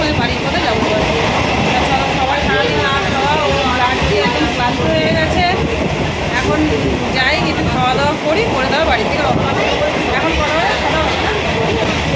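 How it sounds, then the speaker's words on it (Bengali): A loud, steady train rumble on the way toward Sealdah fills the whole stretch, with voices chattering underneath the clatter. "জানি না ট্রেনের আওয়াজে শোনা যাচ্ছে কিনা"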